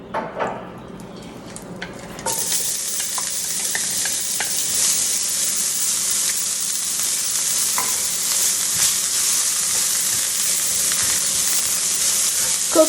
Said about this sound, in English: Add a little bit more olive oil to the skillet and toss our onions in.